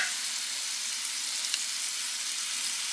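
Rockefeller steak sauce with cheese sizzles in a pan while it is stirred, a steady close hiss of frying that stays even, with one faint scrape of stirring.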